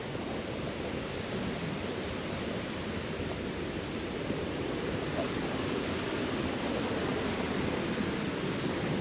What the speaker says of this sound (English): There you go, there's the river.